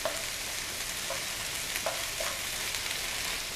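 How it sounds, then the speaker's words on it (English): Meatballs in tomato sauce being stirred in a pan on the stove, a steady broadband sizzle and simmer with a few soft scraping strokes of the spoon, close and moderately quiet with no talking. "So I'll just stir this around"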